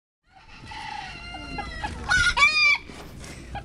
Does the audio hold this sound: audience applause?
no